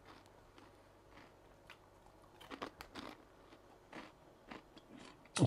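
Someone bites into crispy chili-flavored snack rings, giving a few quiet, close crunches and chewing sounds in a fairly still room.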